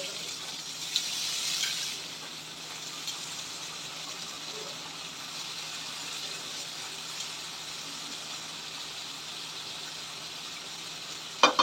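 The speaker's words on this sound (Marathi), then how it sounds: "आता भिजवलेले वाटाणे टाकून देऊ।" Soaked green peas are tipped into a tomato masala frying in a pan, giving a soft hiss and crackle at the start that settles into a faint, steady sizzle.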